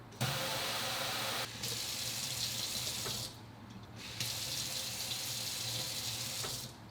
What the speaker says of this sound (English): It's a touch faucet